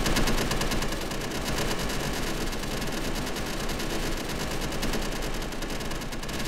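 Turret gunfire in Space Engineers rattles as continuous rapid automatic fire, loud and close, sustained without pause through the whole stretch.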